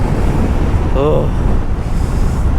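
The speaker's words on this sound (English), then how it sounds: "the wind is doing its all work just to impede my journey further" Wind roars steadily across a foggy mountain gap road in Munnar in December, a dense, loud, unbroken rush with a faint whistling tone briefly rising partway through.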